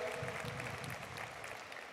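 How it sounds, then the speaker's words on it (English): A county State of the County audience claps in a soft, steady patter, faint and distant, gradually thinning out. "You can clap on that, please."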